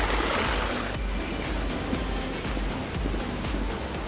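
Water runs steadily along a levada irrigation channel on Madeira, a continuous close rushing wash with no pauses and no voices.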